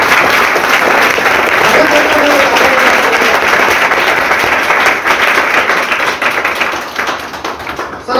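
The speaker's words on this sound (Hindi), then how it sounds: "एक बार जोरदार तालियां दे," Loud, dense applause from an audience at a training seminar, steady thunderous clapping throughout that thins slightly toward the end, with voices mixed in.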